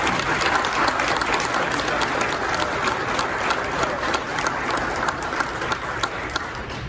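A seated audience at a sheriff's department awards ceremony breaks into dense, sustained applause, many hands clapping evenly throughout at moderate loudness.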